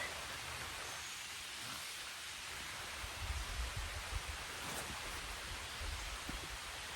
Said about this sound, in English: I was just waiting on it to rain